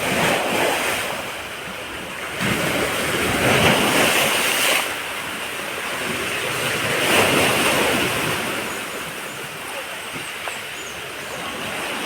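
Sea waves and surf roll steadily along a shore, a loud continuous wash that swells and eases in broad surges, with wind buffeting the microphone throughout.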